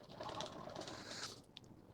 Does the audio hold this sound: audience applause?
no